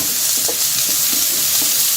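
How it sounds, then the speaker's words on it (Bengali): Beans and capsicum hiss and sizzle continuously in hot oil in a pan as they are stirred while cooking a navratan vegetable dish, with no talking. "শিম দিয়ে দিচ্ছি সঙ্গে ক্যাপসিকামগুলো দিয়ে দিচ্ছি"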